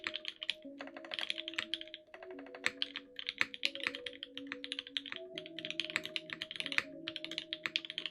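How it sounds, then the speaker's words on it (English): Typing on a mechanical keyboard with an O-ring mount, polycarbonate plate and unfoamed case, producing a close, unhurried stream of clacky keystrokes with brief pauses between bursts. "So as you can hear, this case has no foam, so it's not not muted."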